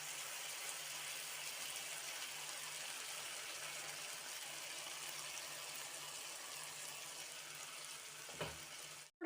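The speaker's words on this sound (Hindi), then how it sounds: "अब इसके अंदर हम ऐड करेंगे 1/2 कप टमाटो प्यूरे। धीरे धीरे ऐड करते रहेंगे और मिक्स करते रहेंगे।" Tomato puree sizzles in hot oil with fried spices while being stirred for matar paneer bhurji, a steady close frying hiss throughout with soft stirring scrapes near the end.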